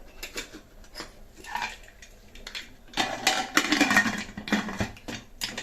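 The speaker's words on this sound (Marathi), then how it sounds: "तर आता आपल्याला हे झाकण लावायचं आहे कुकरचं।" A metal pressure cooker lid is fitted and closed, with clanking and scraping metallic knocks close by, quieter at first and then growing louder and busier toward the end.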